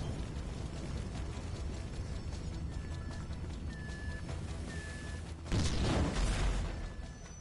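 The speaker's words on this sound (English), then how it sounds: "That explosion must have knocked me out, man." A blast in GTA 5 erupts suddenly after several seconds of dense game noise and music, a loud broadband burst that holds for about two seconds before fading back.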